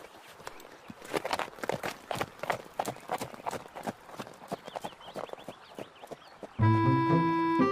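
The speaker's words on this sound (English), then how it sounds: "Stephen got onto his horse" A horse's hooves clip-clop in a steady walking rhythm as a rider moves off, fairly close and distinct, ending with a burst of musical tones.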